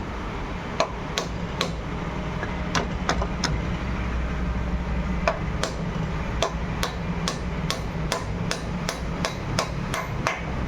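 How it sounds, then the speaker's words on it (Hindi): Sharp metallic hammer blows drive a brass elbow into the engine head of a Bajaj Maxima auto tempo, landing in irregular bursts of repeated strikes over a low background rumble. "अब हम जो है इसके बाद इसकी पीतल वाली एल्बो को ठोकेंगे कंप्लीट इस तरीके से।"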